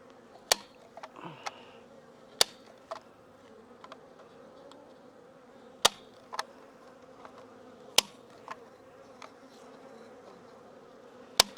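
Honey bees buzzing at an open hive during fall beekeeping work, a steady low insect drone with occasional sharp clicks and knocks of hive equipment scattered throughout.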